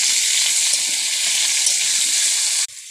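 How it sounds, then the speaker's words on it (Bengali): Potatoes and chopped carrots fry with a loud, continuous hiss while being stirred, cutting off sharply near the end. "আলুর সাথে গাজর কুচিগুলোও ভেজে নিচ্ছি ভালো করে নেড়ে"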